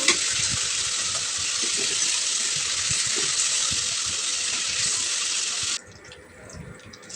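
Chicken pieces frying in hot oil give a loud, steady, close hiss that runs unbroken for several seconds, then drops suddenly to a quieter, sparser sizzle as the pieces are lifted out.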